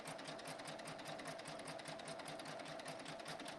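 Brother Skitch embroidery machine stitching: a fast, steady mechanical whirring hum with rapid needle chatter, continuous and close, with no talking over it.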